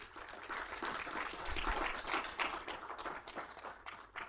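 A crowd at an academic year kickoff event applauding steadily with dense, overlapping claps for several seconds, fairly close and sustained throughout.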